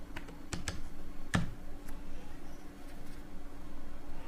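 Keys clatter on a computer keyboard as CashApp is typed into a Play Store search, a few sharp close clicks spaced irregularly over a quiet background.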